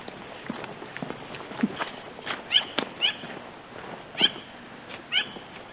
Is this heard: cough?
no